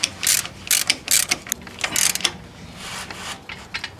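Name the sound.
ratchet tightening Chrysler PT Cruiser motor mount bolt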